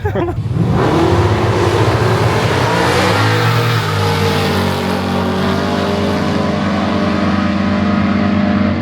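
A Ford Falcon G6E turbo revs hard at a drag race, a loud, sustained engine roar that climbs in pitch and then holds a steady high drone.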